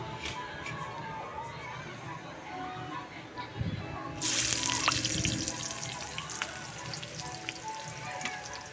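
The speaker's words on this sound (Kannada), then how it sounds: "ನೋಡ್ರಿ ಎಷ್ಟು ಚೆನ್ನಾಗಿ ಫ್ರೈ ಆಗ್ತಾ ಇದೆ ನೋಡ್ರಿ" Chopped onions sizzle steadily in hot oil in a pan, a continuous frying hiss that brightens partway through as stirring continues, with someone speaking over it.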